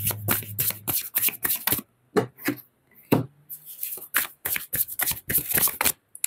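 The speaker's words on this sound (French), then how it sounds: "Je vais tirer 3 autres cartes là-dessus." Tarot cards are riffled and shuffled close by in quick, crisp bursts of papery flutter, broken by brief pauses and soft taps.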